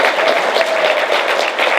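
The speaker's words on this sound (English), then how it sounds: "give yourselves a round of applause" An audience at a real estate network event gives itself a round of applause, loud, close and continuous clapping from many hands with no break.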